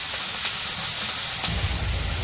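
Onion, green chili and vegetables fry in oil in a pan after fish has been fried, giving a steady, close sizzling hiss that continues throughout with no voices.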